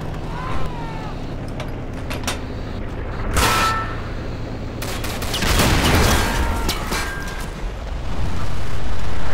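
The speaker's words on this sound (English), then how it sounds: "Can people please stop shooting me?" Gunfire in a multiplayer war game, with dense, loud bursts of shooting and heavy booming blasts that swell and fade across the scene, mixed with background battle noise and occasional voices.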